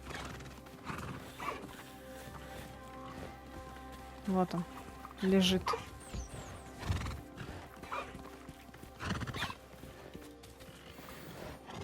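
Horses in the Hogwarts Legacy video game neigh and whinny several times amid clip-clopping hooves, with in-game ambience around them and someone talking briefly over it.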